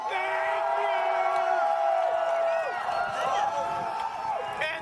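A live crowd roars with whoops and yells, loud and close, while a voice speaks over the cheering and carries on through it.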